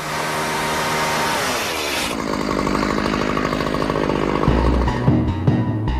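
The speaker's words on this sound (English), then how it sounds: "Basically what you'll use is like a chainsaw, which has a carbide blade on it," A chainsaw fitted with a carbide blade cuts up an airplane in a junkyard, a loud steady motor roar that shifts pitch partway through as the blade bites into metal, with no talk.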